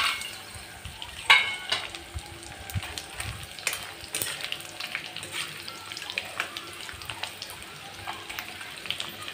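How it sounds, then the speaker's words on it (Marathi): Cleaned, dried bombil fish fry in hot oil, giving a soft, steady sizzle with light crackles and occasional utensil clinks, fairly faint and close, with no talking. "ते आता मी फक्त हे तेलात तळून घेणार आहे।"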